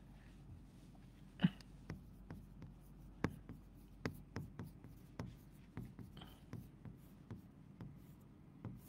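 A pen writes by hand during a chemistry lesson, a run of faint close scratches and small taps at an irregular pace, with a couple of sharper clicks, over a quiet room.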